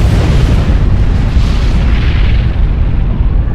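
Fire beetle units blow up in a real-time strategy game as a loud, continuous rumble of booming explosions that fills the whole stretch, dense and heavy with no gaps and no talk.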